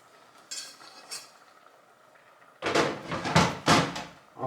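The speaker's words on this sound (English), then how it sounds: "So let's just add all the spring onions and the remaining pieces of" Spring onions and carrot pieces tumble into a cooking pan for a Bolognese, giving a burst of loud clattering, rustling thumps after a quiet start with faint clinks, several close impacts in quick succession.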